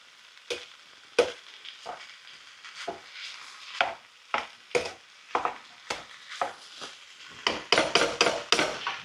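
Raw mince sizzles in a hot frying pan as a utensil scrapes and chops through it, giving a run of sharp, irregular knocks and scrapes over steady frying, busiest toward the end.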